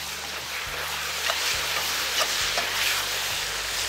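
Squid and vegetables fry in a cauldron over an open campfire, giving a steady broadband sizzle with occasional stirring scrapes and clinks throughout, close and even in level with no talking.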